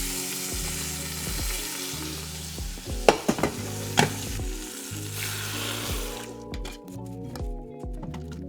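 Food browning in a hot pan with a dense sizzle and a few clattering stirs and scrapes midway, the frying dying back to a quieter crackle near the end.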